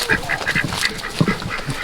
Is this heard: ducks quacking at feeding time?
yes